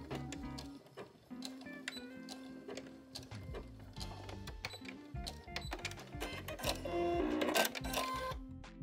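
A sewing machine stitches together the short ends of a fabric wrap skirt with a 3/8 inch seam, giving a rapid mechanical rattle of needle strokes in bursts, close and steady, with no talking.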